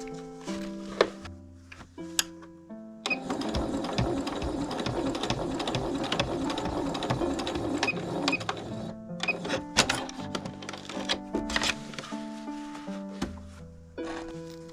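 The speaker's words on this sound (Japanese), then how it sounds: "底と底が 表から5ミリのところを縫っていきます。" A sewing machine runs in a steady mechanical whir, stitching a patchwork pouch 5 mm from the edge, with short bursts and pauses at the start and end around a long continuous run.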